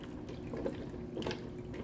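Water is poured over dry pasta in a Ninja Speedi cooker, a soft, close trickle that runs steadily throughout.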